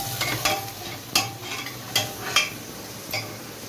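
Masala being stirred in a pan, a spoon scraping and tapping the metal at irregular intervals over a low sizzle, close by with no talk.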